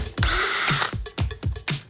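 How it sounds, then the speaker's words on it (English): A power drill bores two holes into plastic double-decker bottle lids for a homemade water fountain, one sustained whining burst followed by several short quick revving pulses, close and loud. "With an adult supervision, drill 2 holes into our double-decker lids."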